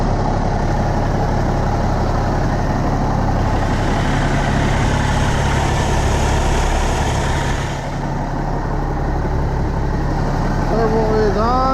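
A Peterbilt 379 truck's CAT 3406B diesel engine idles steadily with a freshly fitted turbo, a loud, continuous low rumble close by with a faint whine over it, and a person talks briefly.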